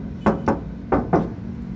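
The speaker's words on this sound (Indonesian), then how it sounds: "Kita ketok seperti biasa." Knuckles rap on the all-metal body of a 2006 Suzuki Katana GX motorcycle. There are four sharp, hollow knocks in two pairs, close to the microphone, against a faint background hum.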